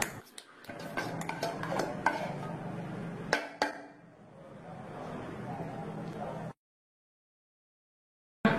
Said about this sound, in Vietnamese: Bây giờ tôi sẽ đi đổ cái này ra cái rổ